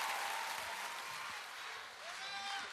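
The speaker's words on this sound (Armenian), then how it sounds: "Եկեք բարձր ծափարենք այս երեկոյի համար" Audience applauding at an evening stage performance and awards event, sustained dense clapping from a large crowd, fairly distant, holding steady before thinning slightly near the end.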